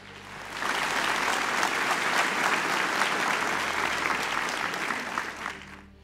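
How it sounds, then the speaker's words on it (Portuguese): A church congregation applauding during a Portuguese-language sermon, a sustained wash of many hands clapping that swells in after a quiet start and fades toward the end. "Quem pode aplaudir o Senhor hoje de manhã?"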